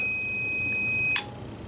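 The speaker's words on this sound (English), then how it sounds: "And you'll see the meter's blinking or beeping." A multimeter on a continuity test sounds a steady high electronic tone, loud and alone, that cuts off abruptly with a small click partway through.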